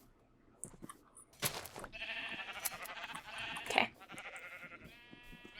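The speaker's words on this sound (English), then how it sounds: "Let me go shear some more sheep" A flock of Minecraft sheep bleats in a busy, overlapping chorus, fairly loud and close, with a brief spoken word partway through.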